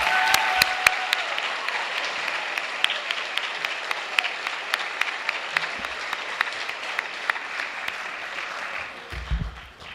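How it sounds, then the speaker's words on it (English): A large audience applauds steadily at a spring orchestra concert, dense clapping holding for about ten seconds with a few sharp individual claps standing out near the front, then thinning toward the end. "A big round of applause for them as well"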